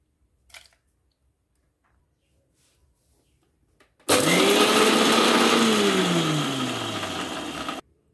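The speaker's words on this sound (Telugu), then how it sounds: "గ్రైండ్ చేసుకున్నాం కదా ఎండుమిర్చిని" A kitchen mixer grinder whirs loudly to grind dry red chillies, urad dal and garlic cloves in its jar. It starts abruptly after a quiet lead-in with a small clatter, runs steadily with its motor pitch shifting, then cuts off sharply.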